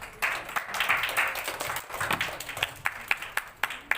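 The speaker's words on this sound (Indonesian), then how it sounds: "Tepuk tangan dulu yuk" A school audience applauds a primary school student contestant at a district storytelling competition, loud dense clapping that thins into scattered individual claps toward the end.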